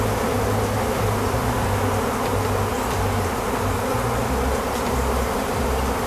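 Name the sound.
honey bees cleaning honey off extracted frames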